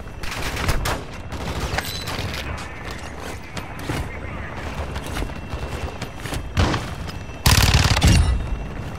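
Gunfire in the video game Call of Duty: repeated bursts of shots and mechanical clatter over a dense battle din, ending in a louder, sustained blast of fire.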